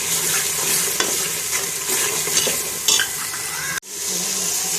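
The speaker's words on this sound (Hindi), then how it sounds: "अब इसका हम थोड़ा सा भून लेंगे" Chili, salt and turmeric fry in a pot of mutton payee in Lahori dawat style, sizzling steadily and loudly while a spoon stirs and scrapes against the metal.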